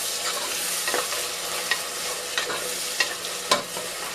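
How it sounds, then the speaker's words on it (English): Jollof rice sauce frying in a pot with grated or blended ingredients, stirred by spoon; a steady sizzle runs throughout, punctuated by several distinct scraping stir strokes at irregular intervals, close and moderately loud. "And then I stir"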